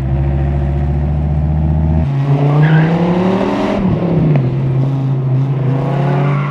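A Dodge Viper GTS on the international karting track at Angerville, its engine droning loud and steady, then rising sharply in pitch as it accelerates hard and settling into a strong, even roar.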